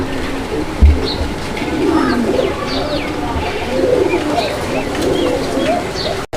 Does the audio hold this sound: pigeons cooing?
yes